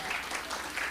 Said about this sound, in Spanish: ¿Le puede dar un fuerte aplauso al Señor?